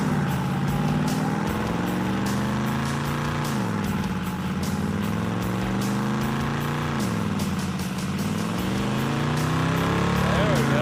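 A 1975 AMC car engine runs hard near 2,900 RPM during a burnout, pinging badly, with a loud continuous roar whose pitch rises and dips, and people talking over it.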